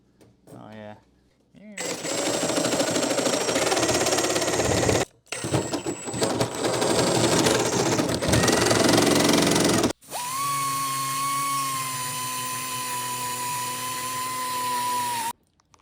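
An oversized electric turkey carver saws an exhaust hole in the body of a Cummins-swapped limousine, giving loud buzzing, rattling bursts separated by short pauses, with the last stretch turning into a steadier high whine.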